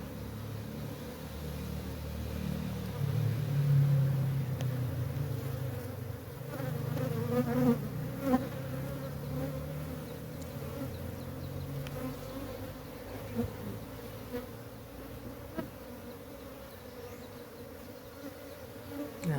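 Honeybees buzzing steadily at a beehive box holding two honey supers, a close, continuous drone with shifting swells in loudness and no talking.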